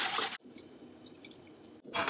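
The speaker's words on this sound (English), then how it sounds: "Then rinse it under running water to remove any impurities." Running tap water rinses rehydrated dry seaweed for egg drop soup, a steady close splashing hiss between two louder gushes at the start and end.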